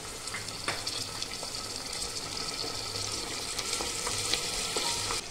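Chopped tomato dropped onto frying onion in a pan, a continuous bright sizzle with faint stirring scrapes, close and steady.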